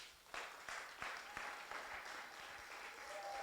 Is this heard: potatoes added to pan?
no